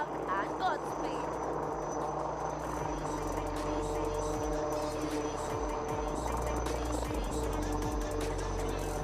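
Indian indigenous helicopter flying in an Aero India display, a steady, continuous engine and rotor drone that holds at a moderate, distant level throughout.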